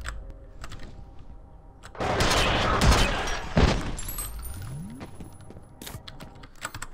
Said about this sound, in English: Let me use this nail gun.